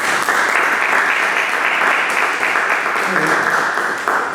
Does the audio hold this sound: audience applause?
yes